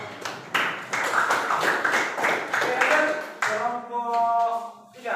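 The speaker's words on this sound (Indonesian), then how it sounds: "kita kasih aplaus untuk kelompok 2" A classroom group claps for the second student team during a teacher-training lesson, with steady hand claps for about three seconds before the clapping thins out and a voice takes over.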